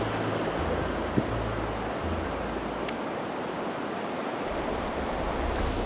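A river flowing beside a ryokan in Sanjo City, Niigata, a steady broadband rush of moving water that stays even throughout, with no voices.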